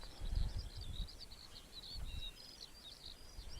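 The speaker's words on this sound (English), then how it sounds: "Yeah, you can probably hear the bird song on stream." Faint, distant birdsong outdoors on an organic farm in early summer, a few different birds chirping in short high phrases over low wind rumble and background noise.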